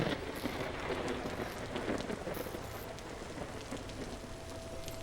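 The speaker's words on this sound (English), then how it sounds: "A lightning struck nearby." Steady rain pours down in the Vintage Story video game, a dense, even hiss of drops close by, continuous throughout with no distinct thunder crack standing out.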